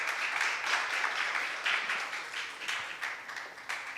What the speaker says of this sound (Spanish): Y dale un aplauso al Señor en esta tarde,